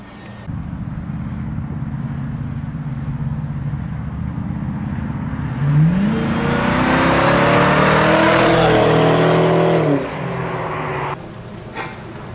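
A Mercury Grand Marquis fitted with Black Widow mufflers drives along, a steady engine drone that swells into a loud, rising rev around the middle, then settles back to a lower rumble.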